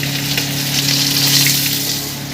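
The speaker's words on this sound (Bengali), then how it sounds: "দেখুন আমার মাছগুলো ভাজা হয়ে গেছে।" Gurjali fish fry in hot oil with a loud, continuous sizzle and crackle close up, alongside a steady low hum.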